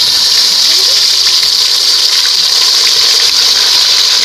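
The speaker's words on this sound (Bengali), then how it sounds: "এই তেলের মধ্যে আমি টমেটোটা দিয়ে দিচ্ছি।" Tomato dropped into hot oil already tempered with dried red chillies, bay leaves, cinnamon, cardamom and cumin seeds for a chicken curry, giving a loud, steady sizzle that hisses on without a break.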